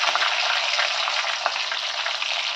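Onion sizzles steadily in hot oil with curry leaves, finely chopped ginger and green chili over a low-medium flame, a dense, even frying hiss that stays close and continuous throughout with no voices.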